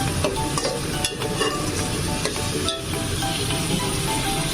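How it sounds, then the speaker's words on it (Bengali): Tomatoes sizzle steadily in a pan over a medium-low gas flame while being stirred for vuna khichuri. A dense, even frying hiss runs throughout, with occasional spoon scrapes cutting through. "এখন গ্যাসের ফ্লেমটা মিডিয়াম লো করে আমি এটাকে নাড়িয়ে নেব টমেটোটা গলে যাওয়া পর্যন্ত"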